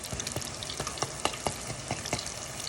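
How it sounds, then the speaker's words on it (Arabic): Crispy eggplant frying in ghee, a steady close sizzle and crackle with irregular sharp pops and stirring clatters throughout, with no voices. "اسمعوا صوت الباذنجان المقرمش"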